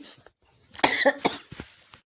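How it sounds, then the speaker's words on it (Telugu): A short fit of close, harsh coughing from someone with a cold: a couple of strong bursts followed by a few smaller ones, with quiet moments around them. "మాట్లాడుతున్నా దగ్గు వచ్చేస్తుందండి"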